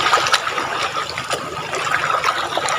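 Sea water splashes and washes nearby in a continuous, fairly loud churning of bubbling, trickling water with small splashes, no voices.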